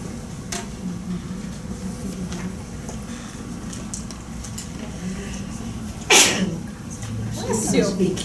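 An audience member sneezes once, sharp and loud, at a lunch-and-learn talk, rising over a steady room murmur and nearby speech.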